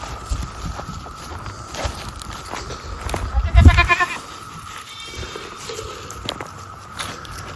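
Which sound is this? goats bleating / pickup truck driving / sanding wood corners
goats bleating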